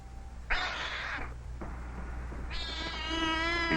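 A cat meows loudly and close in several drawn-out cries, with a short pause between them, the last call rising into a harsh, strained wail.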